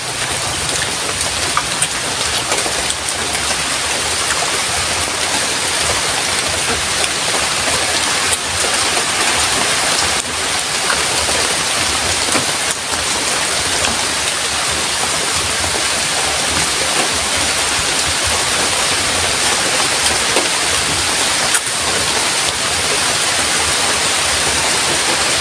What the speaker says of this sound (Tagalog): Grabe yung ulan na naman.